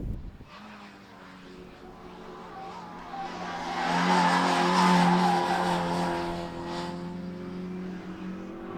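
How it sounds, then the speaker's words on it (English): A race car at Hampton Downs locks its brakes into turn 1 during a sprint event, producing a rising, sustained tire squeal over engine drone that peaks midway and then eases, heard from trackside. "locks it up big time into turn 1"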